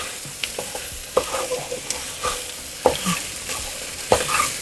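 Masale bhat ingredients being sautéed in a pan give a soft, steady sizzle, with a spatula scraping and tapping now and then in irregular strokes; no talking.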